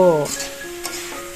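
Brief frying sizzle in a pan, beginning with a short hum of a voice, then a soft steady hiss with a light tap.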